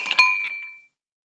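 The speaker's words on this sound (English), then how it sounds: "So go ahead and dump out that ice." Ice cubes are tipped out of a chilled cocktail glass while a Sazerac is being made: a quick cluster of bright glassy clinks, then one clear ringing tone that fades over under a second, with no talk.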